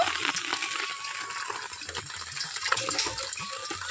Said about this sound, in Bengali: তো জলটা এরকম একটা ছাকনিতে করে ছেঁকে নেব